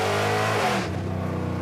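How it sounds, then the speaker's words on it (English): A loud muscle truck engine revs hard with a harsh, rumbling exhaust note, the pitch climbing steadily and then dropping back to a throbbing, lumpy idle, close and alone without any talk. "this thing is famous for its wicked exhaust note."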